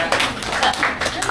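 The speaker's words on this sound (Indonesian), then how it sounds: "Boleh tepuk tangan." Crowd applause fills the room at an Indonesian film press event, steady clapping with voices talking and cheering over it.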